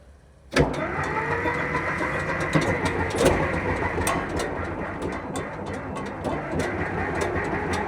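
An old truck engine cranks, fires and catches, jumping abruptly from quiet into a loud, continuous rumbling idle with irregular clatter throughout.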